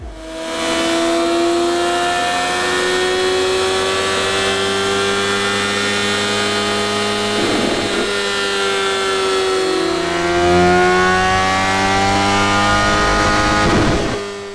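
A Euro 5 BMW S1000R motorcycle with a custom ECU remap revs hard on a dyno, its loud, close engine climbing steadily through the gears in one long sustained run with brief shifts, no talking.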